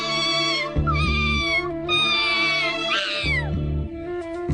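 A cartoon kitten from the animated Doraemon series meows repeatedly in loud, drawn-out, wavering cries over a rhythmic musical backing, one call sliding sharply downward.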